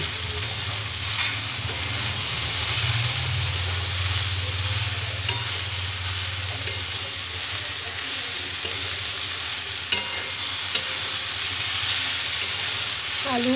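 Potato, papaya, eggplant and brahmi greens fry in a pan with a steady, close sizzle and hiss throughout, with occasional soft clicks of stirring over a low rumble.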